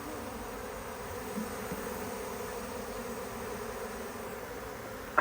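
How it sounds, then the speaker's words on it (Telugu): Honeybees buzz around a beehive box on a farm field in Korea, a faint continuous droning hum that stays steady throughout, with no talk. "ఆ తేనెటీగలన్నీ కూడాను ఈ బాక్స్లోకి పంపించేస్తాడు"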